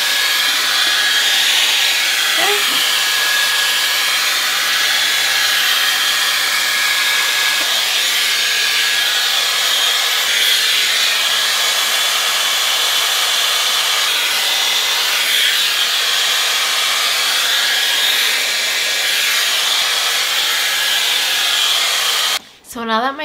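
A Dyson Airwrap hair dryer fitted with a diffuser blows loudly and steadily on curly hair for over twenty seconds. The even whooshing airflow cuts off abruptly right at the end.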